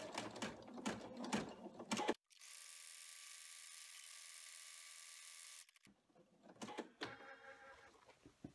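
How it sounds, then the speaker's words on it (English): Embroidery machine stitching a decorative spine on a mini composition notebook cover, a steady mechanical whirring hum of the needle running continuously for several seconds, framed by quieter handling noises before and after. "I am just going to go run that spine stitching"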